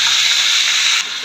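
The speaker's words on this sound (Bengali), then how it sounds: "মাছ ভাজার তেলে বরবটিগুলো হয়ে যাবে।" Yardlong beans dropped into hot oil left from frying fish, giving a loud, close, continuous hiss of sizzling that abruptly softens near the end.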